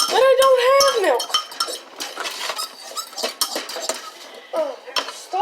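Eggs stirred thoroughly in a dish for microwave cooking, a quick run of close clinking and scraping of utensil against dish, loud at first and then busier, scattered taps.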